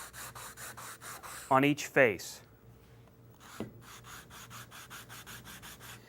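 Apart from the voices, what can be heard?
sanding block rubbing on wood door frame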